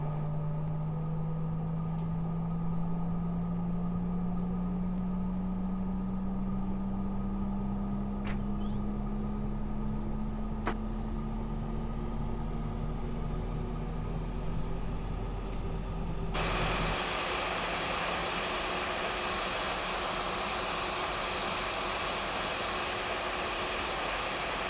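Airliner engines hum in the X-Plane 11 flight simulator during taxi, a steady whine that slowly rises in pitch, then switches abruptly to a louder, broader roar for the final stretch.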